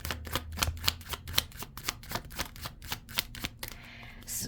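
Tarot cards are shuffled by hand in rapid, rhythmic riffling bursts, a dense run of crisp paper slaps and flutters close by, ending in a brief softer rustle.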